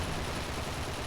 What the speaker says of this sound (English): Who needs cover when I can run and shoot like a madman?